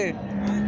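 A cow gives a short, close moo, a brief low bellow, with faint background noise at the Alamdanga cattle market in Chuadanga.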